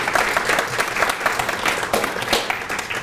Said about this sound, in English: So we can get a round of applause for those guys.